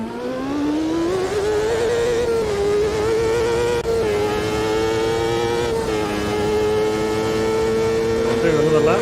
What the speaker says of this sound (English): Transmission complaining on the bumps and the braking zones.